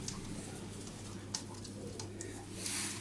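Miro pigeons coo softly and repeatedly, close by, over a steady low hum, with faint voices in the background.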